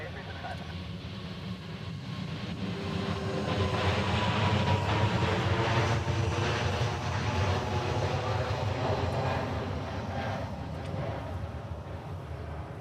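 An Airbus A380 departs Honolulu airport, a broad roaring jet engine swell that builds, peaks mid-clip and slowly fades, heard from close range with faint radio chatter underneath.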